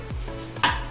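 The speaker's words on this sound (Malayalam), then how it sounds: "എണ്ണ ചൂടായ ഉടനെ അതിലേക്ക് കുറച്ച് കുരുമുളക്, അല്പം പെരിഞ്ജീരകം" Black pepper and fennel seeds sizzling in hot oil in a pan for a crab roast curry, a steady close hiss with a couple of stirring scrapes.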